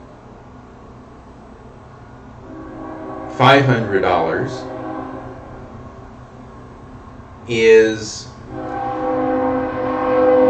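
A train rolls past with a steady low rumble, its horn sounding loudly twice in long blasts a few seconds apart while a person talks over it.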